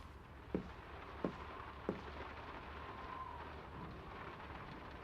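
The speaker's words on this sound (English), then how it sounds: "It's really coming down. How about a quick run in the rain?" Heavy rain hisses softly and steadily in the video game Draugen, broken by three short, dull thumps of thunder early on. The whole scene stays faint and distant.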